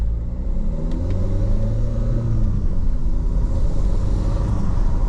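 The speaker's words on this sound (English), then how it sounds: "Now I'm out in the car, you've got to pull over, start, stop, put it in first, pull off sharply, stop sharply." A Peugeot car with a semi-automatic clutch on a test drive, a steady low engine rumble from inside the cabin, with no talking.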